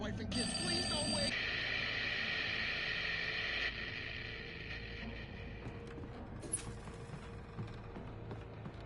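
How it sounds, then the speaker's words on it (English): An alarm clock rings in the video game Alan Wake, a bright electronic trill in a burst at the start, followed by a rumbling, murky game ambience with a brief sharp chime later on. "Oh, God help us, it's an alarm clock."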